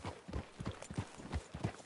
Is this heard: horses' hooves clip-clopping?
yes